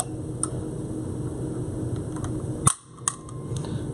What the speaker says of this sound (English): Now we're going to look at this Sig 320 with the Aftermarket Apex Trigger in it.